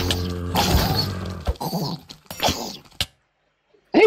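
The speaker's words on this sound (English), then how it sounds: "Hey, my dog's wolf armor broke." A game dog companion whimpers and growls as its wolf armor breaks, short yelps coming in bursts over about three seconds before cutting to silence.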